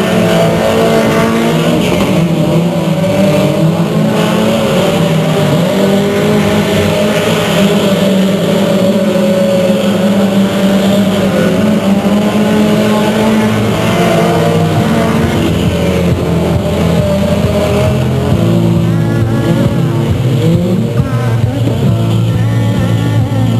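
Two-liter race cars lap Delta Speedway in a loud, continuous roar of revving engines that rises and falls as they pass, with no talk over it.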